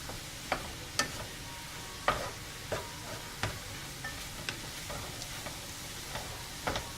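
Cauliflower fried rice with egg being tossed in a hot pan, a soft steady sizzle punctuated by irregular clicks and taps of a utensil against the pan.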